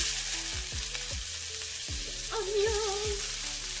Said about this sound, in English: So it's like really dark now, so I'm going to put some onions